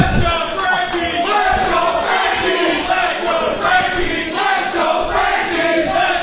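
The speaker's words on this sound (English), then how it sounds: "They're cheering for this lunatic, this psychopath" A wrestling arena crowd cheers loudly and continuously, a dense roar of many voices with shouts rising and falling throughout.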